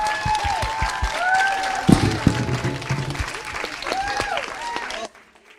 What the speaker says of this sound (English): receive a huge round of applause